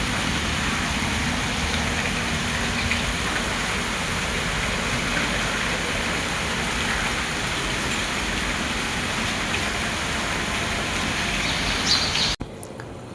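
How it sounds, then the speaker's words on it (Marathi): Steady morning rain falls outdoors, a dense continuous hiss of drops on surfaces holding an even level throughout, ending with a brief drop in intensity near the end. "सकाळ सकाळचं वातावरण आणि पाऊस पण खूप चाललाय"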